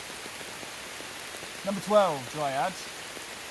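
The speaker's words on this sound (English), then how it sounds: "I should probably get out of this rain" Steady rain falls outdoors, a soft, even hiss throughout, while someone speaks briefly in the middle.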